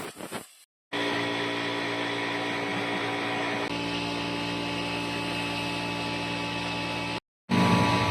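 Air is blown over a drag-race bicycle frame to clear dust before painting, producing a loud, continuous close-up hiss with a steady hum that starts abruptly and briefly cuts out near the end.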